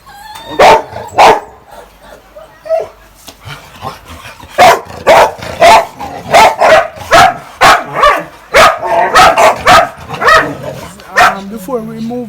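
Young mixed German Shepherd puppies on a livestock farm bark and yip repeatedly in loud, close bursts, with faint talk underneath.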